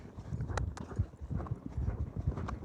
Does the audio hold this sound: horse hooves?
yes